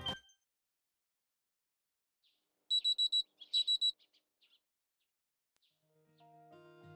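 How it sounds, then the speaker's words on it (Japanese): A smartphone alarm in a video game chirps in two short bursts of rapid beeps, fairly clear against near silence, followed by faint background music. "鳴り出したスマホのアラームを止め、そのまま時刻を確かめる。"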